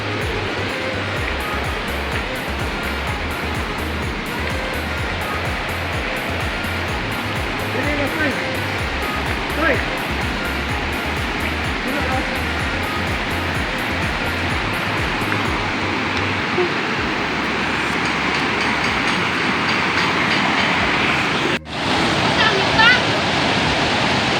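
A mountain stream (sapa) in Bagatayam, Sogod, Cebu rushes steadily in a dense, broadband wash of water, loud and close throughout, with a low rumble underneath and a brief knock near the end.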